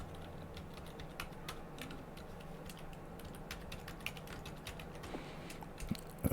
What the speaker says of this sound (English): I was just busy typing